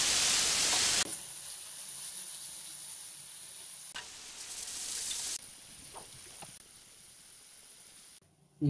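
Marinated beef pieces for burgers frying in hot oil in a pan give a continuous sizzle and hiss that flares louder as pieces are added, with occasional faint stirring knocks.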